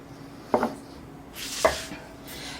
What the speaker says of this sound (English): now we're just going to cut our dumplings